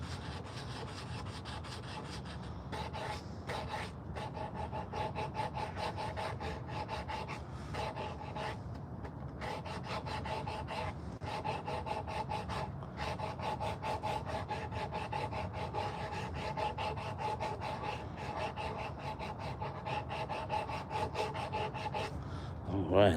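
Steady rhythmic rasping of 60 grit sandpaper rubbed over a carved wooden spoon, continuous close scratchy strokes for over twenty seconds with no talking.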